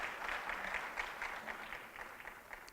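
Applause from an audience honouring the First Ladies at a formal event: steady, fairly faint clapping that runs the full few seconds without a break, no voices rising above it.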